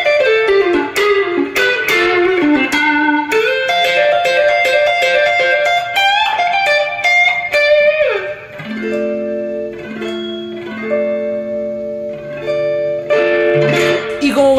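An electric guitar played through an amplifier and recorded on a phone, with a fast run of bright picked notes followed by slower sustained notes and chords, loud and close with no voices.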